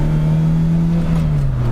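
Car engine pulling away in second gear at around 2,000 RPM: a loud, steady low drone that sags slightly in pitch toward the end, heard close from inside the car without speech.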